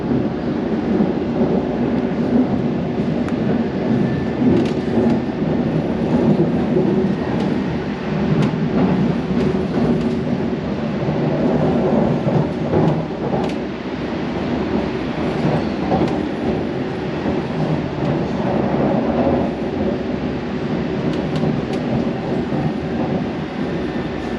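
A London Overground train rolls slowly into Barking station, heard from on board as a continuous low rumble with faint wheel clatter and rattles throughout.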